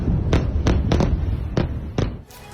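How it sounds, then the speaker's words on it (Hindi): Israeli missile strikes near Beirut airport, Lebanon, land as four or five deep, booming blasts in an uneven sequence, each a sharp thud with a rumbling tail over a low background roar. "इस वक्त धमाके की आवाज आ रही है।"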